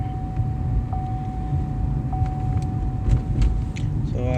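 Car rolling over a rough, bumpy road, steady low road rumble with occasional knocks, plus a faint thin tone from a faulty front wheel speed sensor.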